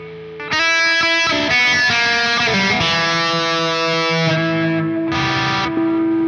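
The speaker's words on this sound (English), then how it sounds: "Now let's play something without the noise gate on my single coil Strat." Single-coil Stratocaster played through a Spark amp with the noise gate off, distorted chords and notes ringing out in bursts with hiss filling the gaps between them.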